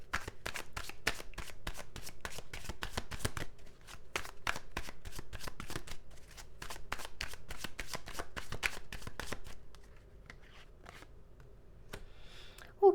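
Tarot cards are shuffled for a reading in a long run of rapid, crisp riffles, steady for about nine seconds before thinning into softer handling with a brief clack at the end.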